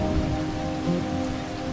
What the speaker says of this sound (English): we've done pretty much everything we can do today because we got rained out on a couple things